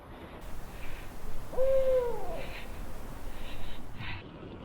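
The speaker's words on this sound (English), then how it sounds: "I heard an owl." A single owl hoot rings out clearly at a distance in rural New Hampshire, alone over a quiet outdoor background with faint low hiss.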